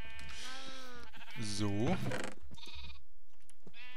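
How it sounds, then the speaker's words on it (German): Sheep bleat in the video game Minecraft: a few wavering, nasal bleats, one loudest near the middle, heard close alongside a man's speech and soft game background. "Die nackten Schafe."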